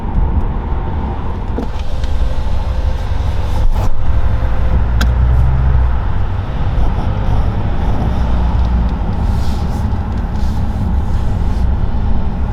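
A car cruises along a highway near Atlanta, its steady road roar and low engine rumble filling the cabin continuously and loudly, with no one talking.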